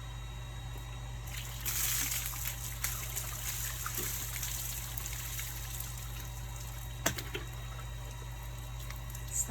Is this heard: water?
yes